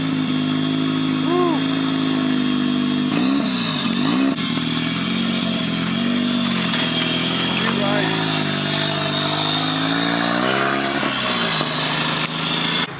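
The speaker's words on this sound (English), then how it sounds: "AE86 started up. This thing sounds so nasty," Toyota AE86 fitted with an SR20 engine and a big turbo, running with a harsh, steady drone and rising revs, loud and close, with voices talking at a car meet.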